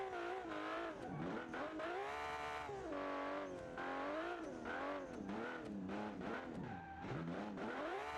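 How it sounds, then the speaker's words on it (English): A custom-built drift car in BeamNG.drive slides through corners, the engine's revs rising and falling continuously in long sweeping wails while the tires squeal and skid, loud and close throughout. "I try to, like, drift as much as I can."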